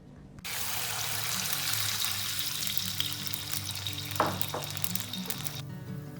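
Stock pours into a pot of hot oil holding scallion, ginger, garlic and hotpot seasoning over a low flame for malatang, erupting in a loud, sudden sizzle that holds steady with a watery, bubbling rush before cutting off.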